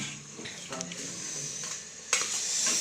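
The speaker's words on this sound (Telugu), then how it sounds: "ఆ ముక్కల్ని స్పూన్తో, అదే గరిటితో ఈ విధంగా వేయవాలి" Banana pieces are stirred in a frying pan with a ladle, with soft scraping and light clinks against the pan over a quiet sizzle, and a sharper scrape near the end.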